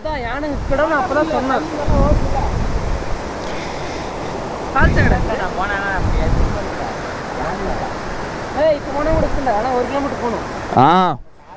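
River water rushes steadily over the pebbles of Koozhangal river along the Valparai to Athirapally road, a loud continuous wash with wind buffeting, while people talk over it throughout.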